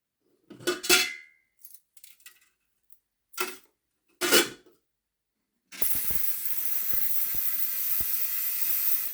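An ultrasonic cleaner holding small model-train parts (brushes, springs, a clip and a pinion gear from a Hornby R098 Flying Scotsman) gives a steady close hiss with faint ticks, after a few separate clinks of parts being handled.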